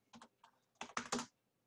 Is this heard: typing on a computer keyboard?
yes